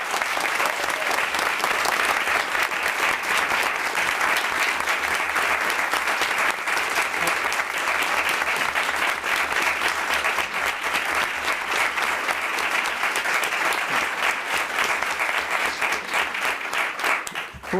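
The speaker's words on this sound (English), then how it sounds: "Let's give these folks a round of applause." School committee meeting audience gives sustained applause for student musicians, an even, continuous patter of many hands clapping for nearly eighteen seconds before tapering slightly at the end.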